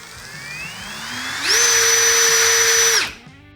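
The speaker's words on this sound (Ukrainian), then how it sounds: "плавно натискаючи кнопку пуску, ми маємо можливість регулювати оберти." A Procraft 20V cordless drill winds up gradually from a low whir to a steady high-pitched whine, holds for a moment, then spins down and stops.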